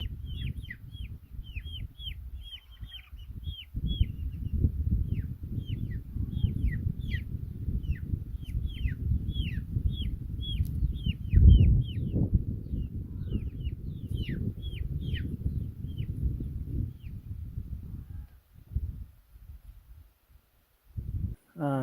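Chickens clucking and calling at an off-grid backyard chicken run, bursts of clucks repeating steadily over about twenty seconds. They stand over a steady low rumble of wind or handling noise, and no one talks.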